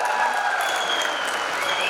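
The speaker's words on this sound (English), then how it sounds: "Once again, round of applause," A conference audience at an in-conversation event with Anju Bobby George and Anil Kumble breaks into dense, steady applause that stays loud throughout the short burst.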